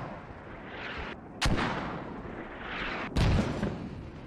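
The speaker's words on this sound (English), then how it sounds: "Mortars actually sound like they're landing pretty far." Mortar shells landing far off in the video game Squad: two muffled, distant booms about two seconds apart, each a sharp thud that trails into a rumbling wash of noise.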